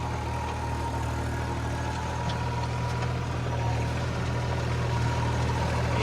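A tractor engine idles nearby in a steady, even rumble that holds at a constant level for several seconds with no talk over it.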